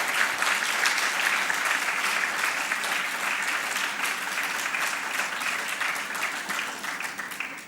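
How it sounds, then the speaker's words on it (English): An audience applauds steadily at the launch of an art programme at Kempegowda International Airport in Bengaluru, a dense, continuous clapping that holds for several seconds and tapers slightly toward the end, with no voices over it. "please give them a big round of applause"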